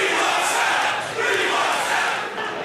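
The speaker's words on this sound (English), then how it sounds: "Jets making a terrible pick and their fans booing them" A large NFL draft crowd roars in a dense, sustained jeer as New York Jets fans boo their team's first-round pick, loud and continuous throughout with no clear breaks.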